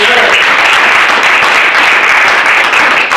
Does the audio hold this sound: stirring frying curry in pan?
no